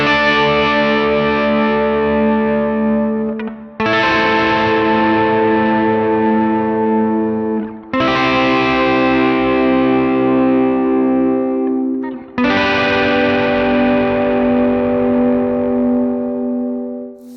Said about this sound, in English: So check out these chorus chords here, 4 notes each.